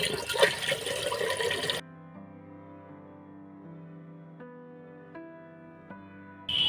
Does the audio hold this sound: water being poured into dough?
yes